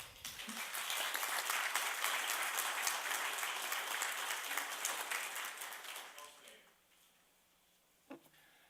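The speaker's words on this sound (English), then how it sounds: "everybody on our commissions and boards needs to have a round of applause." A room at a city council meeting breaks into sustained applause, a dense wash of clapping that holds steady for several seconds, then thins out and stops, leaving quiet with a single faint knock.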